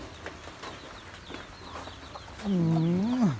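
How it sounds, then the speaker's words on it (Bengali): Ducks and chickens on a rainy rural homestead: scattered soft clucks, then a loud, close, drawn-out squawk near the end. "হাস মুরগি"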